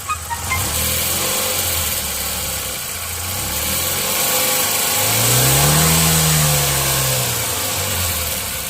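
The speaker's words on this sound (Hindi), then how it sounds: "मैं जैसे ही इसके एक्सीलेटर को दबाऊंगा तो आप उस छन को सुनने की कोशिश कीजिएगा" A Tata Nano with a rattle from a loose brake plate idles, then revs up and settles back once, its engine close and loud with a buzzy, chattering edge throughout the steady running.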